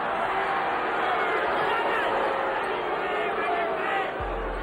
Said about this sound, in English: Crowd getting a little tired of that.